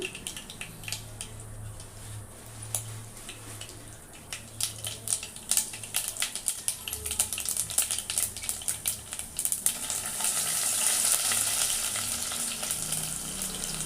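Mustard seeds, cumin, garlic and curry leaves frying in oil for tomato pappu, a close sizzle with scattered sharp pops and crackles that builds into a denser, louder hiss toward the end, with no talking.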